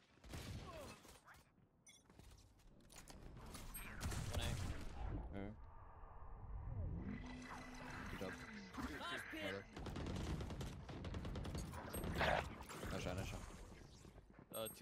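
Gunfire in Valorant on the Sunset map, with bursts of shots and weapon mechanisms set against a continuous game soundscape, and players talking over the action throughout.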